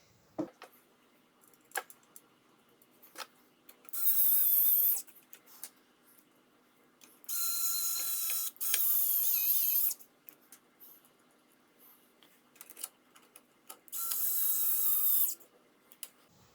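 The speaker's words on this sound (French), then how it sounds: "vous n'aurez plus qu'à revisser les 3 vis dans l'ordre que vous voulez" Screws are driven back into an Ender 3 Pro 3D printer with a power screwdriver, four loud high-pitched whirring bursts of a second or more separated by quiet handling clicks and taps.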